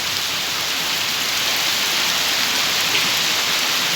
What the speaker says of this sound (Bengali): বৃষ্টি এখনো পড়ছে